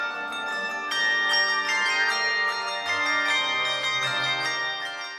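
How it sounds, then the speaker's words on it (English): Carillon bells struck in a rich, ringing sequence of overlapping tones, with repeated strikes building a sustained, resonant wash of bright harmonics that decays and layers continuously, loud and close with no voices. "There's really a multitude of ways that the bell can be struck."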